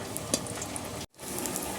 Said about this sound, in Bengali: এই ভাজাটা একটু কড়া কড়া করে ভাজতে হবে